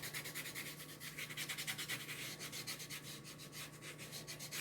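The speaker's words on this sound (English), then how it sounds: "You just get some wax and you just lightly rub it on." Wax lightly rubbed by hand onto a wooden carrot decor sign, making a soft, steady, rhythmic scratchy swishing of quick back-and-forth strokes that stays faint and close. No talking.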